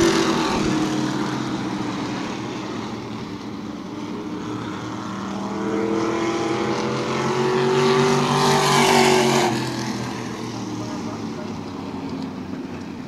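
Modified race cars at a speedway roar by near the finish of a race, engine noise swelling and fading with a rising pass, while a track announcer talks over the public address.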